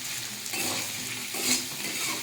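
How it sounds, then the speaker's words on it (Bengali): Potatoes being stirred and fried in a pan for aloo dum, with a steady close sizzle and the scrape of a spoon against the pan, growing louder toward the middle. "আলুটা ভাজা ভাজা হয়ে গেছে,"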